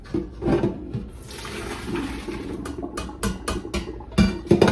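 Cooked fettuccine noodles and their water poured into a strainer, a sustained splashing gush of liquid with sharper clattering bursts as the pour ends, close and fairly loud with no talking.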